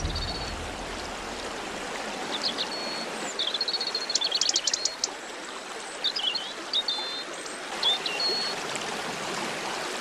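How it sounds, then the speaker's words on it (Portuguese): Thrushes singing in wild Iberia in late autumn, short scattered high phrases and chirps at a distance over the steady wash of a nearby stream, with no voices. "os tordos ainda estão cantando, marcando seus territórios"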